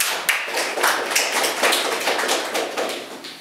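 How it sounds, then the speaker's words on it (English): A small audience claps in a brief, fairly sparse round of applause, close and steady for a few seconds. "So let's give him a nice round of applause."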